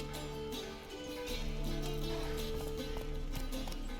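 Hooves of Roach, a horse in The Witcher 3, clip-clop in a quick steady rhythm beneath a soft game music bed, loud and close.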